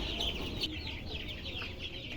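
Chickens clucking steadily in a close group while eating fermented maize feed, soft overlapping clucks over a low rustling background, no voices.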